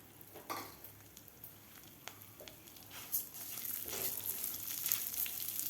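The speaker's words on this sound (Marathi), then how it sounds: "त्याच तुपामध्ये आपण हे तांदूळ सुद्धा भाजून घेणार आहोत।" Rice roasting in ghee in a pan on medium heat, a faint, soft sizzle with occasional light stirring scrapes and taps, quiet and close.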